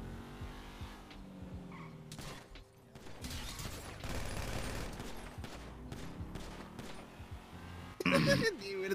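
Rapid bursts of gunfire during a drive-by shooting in GTA V roleplay, mixed with car engine roar and tire noise, ending in a louder close burst; voices talk over the action.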